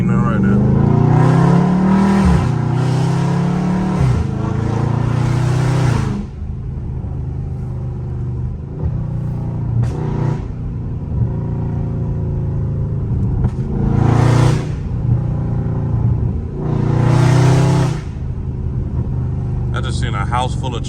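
A catless Dodge Charger Scat Pack V8 rumbles loudly from inside the car while driving, with repeated revving surges and sharp exhaust pops, and someone talking over the engine.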